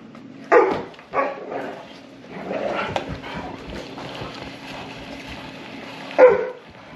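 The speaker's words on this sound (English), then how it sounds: "that's our dogs playing in the background." Dogs playing on a homestead, a few sharp barks near the start and end with scuffling and rustling between, somewhat close and alone without talk.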